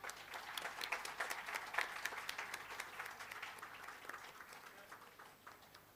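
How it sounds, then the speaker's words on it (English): Audience clapping at an education conference session on diverse learners, a dense crowd applause that swells early and then slowly tapers off over six seconds, heard from within the hall. "Can we clap a bit louder?"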